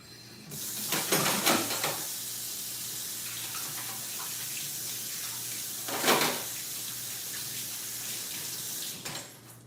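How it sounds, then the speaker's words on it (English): Tap water runs steadily into a kitchen sink while hands are washed, with a brief louder splash near the start and another midway, under low background hum. "Let me wash my hands."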